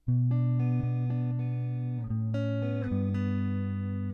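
A guitar plays a short chord progression, each chord ringing out and changing every second or so, clean and close with no talking.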